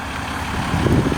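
A tuned and deleted Dodge EcoDiesel work truck idles low and steady, a deep rumbling drone close by with slight roughness toward the end.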